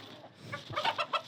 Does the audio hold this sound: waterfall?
no